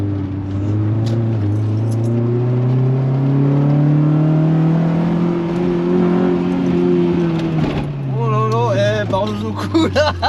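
A Honda CRX del Sol VTEC drives with a steady engine drone that rises and falls through the revs, heard from inside the car, with people talking toward the end.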